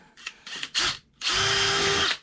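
A power drill with a 2.5mm bit revs in a few short bursts while drilling a pilot hole, then runs steadily for about a second before stopping. The whine is close and loud.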